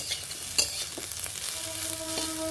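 Fig (dumur) bhaji fries in a pan, a steady close sizzle with a few brief clicks of stirring.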